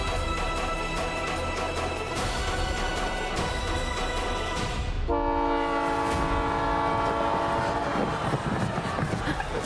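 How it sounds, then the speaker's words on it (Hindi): A train rolls past with steady clattering wheels, and partway through a loud sustained horn blast sounds close by, holding for several seconds over the rumble. "वो रेलगाड़ी आप लोग को अमृतसर ले जाएगी"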